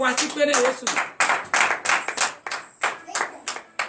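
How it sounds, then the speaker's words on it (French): A church congregation claps hands in acclamation during a morning prayer service in Benin, a run of sharp, fairly close claps in uneven bursts. "Donnez l'acclamation à Jésus."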